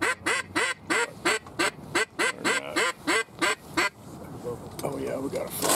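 A flock of ducks quacks directly overhead during a Michigan duck hunt, a rapid regular series of loud nasal calls, followed by a softer stretch with a faint voice.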